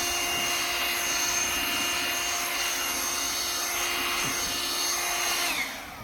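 New 2024 Ryobi cordless inflator blower running near, a steady airy whir with a faint tonal hum that holds evenly and dips as it winds down at the end, with no talk.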